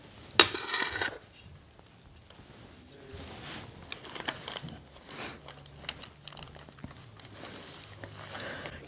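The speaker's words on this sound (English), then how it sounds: "spoon it into my loaf pans" No-sugar banana bread batter spooned into paper-lined loaf pans: faint, scattered clinks and scrapes of a spoon against the pans in a quiet kitchen, with a louder clatter near the start.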